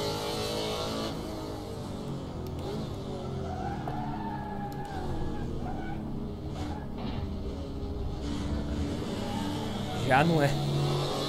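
A BMW M3 E92 of the N2 class races in Assetto Corsa, its engine a steady loud drone with shifting pitch and a brief rise near the end, under someone talking.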